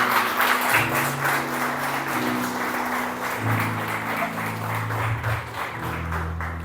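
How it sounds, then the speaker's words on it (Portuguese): A church congregation applauds during a sermon, a steady spread of clapping with a sustained musical tone underneath, moderately loud throughout. "Você pode aplaudir o Senhor?"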